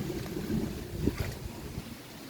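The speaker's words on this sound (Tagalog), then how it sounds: "Ayan o, mahangin yan dito" Steady outdoor wind from a typhoon rushes and buffets the microphone, a continuous low roar with gusty swells and no voices.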